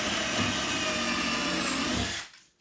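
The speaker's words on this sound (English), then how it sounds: "Drill the hole." A power drill whines steadily at high speed for about two seconds while boring a hole, then spins down and stops. It is loud and close.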